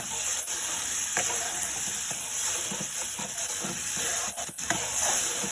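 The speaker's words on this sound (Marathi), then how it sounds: "आता आपण जे वाटण आहे आपलं वाटण ॲड करूया. आणि वाटण छान फ्राय करून घेऊया आता आपण हे." Ground masala paste frying in a pan for a fish kalvan curry, a steady loud sizzle and hiss with occasional stirring scrapes, continuous throughout with no talking.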